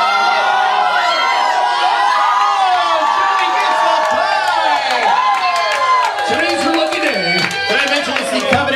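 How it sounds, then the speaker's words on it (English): A crowd at a live Black Jake & the Carnies show at the Regal Beagle cheers, whoops and claps loudly and steadily for the whole stretch, a dense wash of voices and applause with no pauses. "give Joey a big round of applause"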